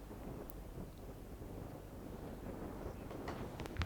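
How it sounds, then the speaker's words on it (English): Strong wind blowing across an open hilltop disc golf course, a low steady rumbling buffet on the microphone, constant and fairly quiet, with a few faint knocks near the end. "And you can hear that wind, see how it affects that."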